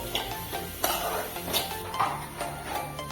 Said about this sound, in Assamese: সেইখিনি আৰু চব্জিৰ দৰে ভাজিব লাগে